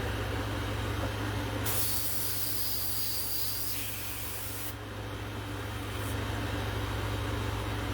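A sustained hiss of purple paint sprayed onto a latex mask, about three seconds long and close, followed by a brief second puff, over a steady low hum.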